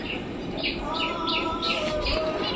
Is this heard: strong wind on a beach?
no